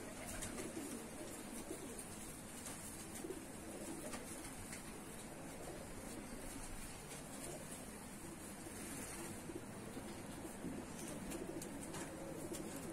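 Rock pigeons, kept by a pigeon fancier in Tbilisi, Georgia, coo continuously in a low murmuring chorus under steady background noise.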